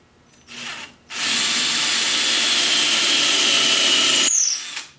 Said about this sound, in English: I'm about to drill a 5/16 inch hole.